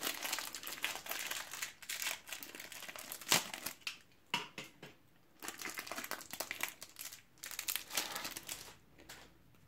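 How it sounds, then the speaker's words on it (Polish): Topps Champions League 17/18 card pack wrappers are torn open with close, bursty crinkling and crackling of foil plastic, coming in irregular handfuls separated by brief quiet gaps. "otwieramy pozostałe zawiniątka"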